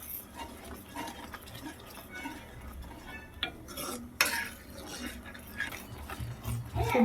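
A spoon stirring tomato sauce simmering on a low flame, scraping and clinking against the pot in irregular strokes over a faint bubbling hiss, with one sharper knock midway.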